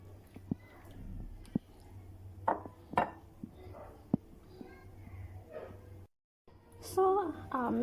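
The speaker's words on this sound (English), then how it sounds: "I'm going to transfer from sufuria to inside the bowl." Metal spoon scrapes and clinks against a sufuria pot as minced meat stew is transferred into a bowl, with several scattered sharp taps close by and a voice talking softly in the background.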